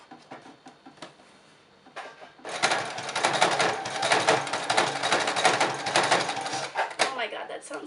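A sewing machine with a faulty bobbin starts up after a quiet moment with light handling noises. It then runs for about five seconds with a loud, rapid, rattling clatter while altering a vintage romper, before stopping.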